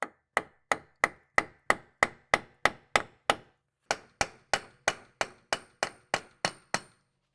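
A hammer taps a front wheel bearing part on a Volvo V70-type car in evenly spaced sharp metallic blows, about ten in a row, a brief pause, then another run of similar ringing strikes close up with no talk.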